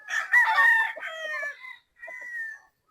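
A two-year-old, medium-sized Boston Gilmore gamecock rooster from a game farm crows close by in two bursts: a long, loud call followed by a shorter, fainter one, with no talking.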